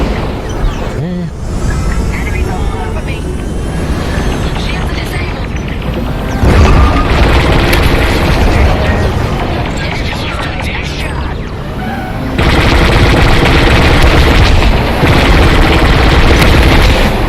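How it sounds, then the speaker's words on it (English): Heavy, continuous explosions and blaster-like booms from the Star Wars: Squadrons space flight combat game, played in VR, forming a loud, dense wall of sound that swells in intensity partway through and again near the end. "I think the explosions all look great in this"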